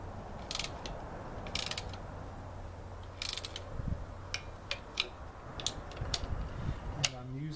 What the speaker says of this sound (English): It's a 1/4 inch drive torque wrench.